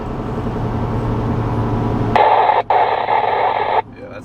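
Static hiss from a Midland MXT115 two-way radio during a range test, a broadband crackle that kicks in mid-clip after a low rumble, briefly cutting out once before stopping near the end.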